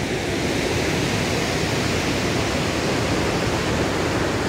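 A river rushes through the Swat Kalam valley in Pakistan, giving a loud, steady broadband roar of flowing water that holds unchanged for the whole stretch, with no voices.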